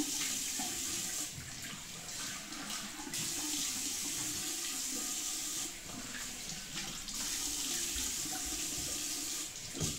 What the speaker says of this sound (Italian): Acqua fresca.